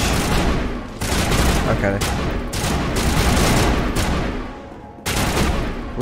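Gunfire in the video game Mass Effect, continuous loud bursts of shooting across the clip with brief gaps, mixed with a player talking over the action.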